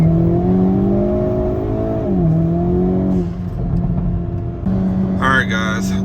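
Hyundai Kona N fitted with a JB4 tuner accelerating hard on a highway, a loud tonal engine drone rising in pitch with a brief drop at a gear change, then rising again, with people talking in the cabin near the end.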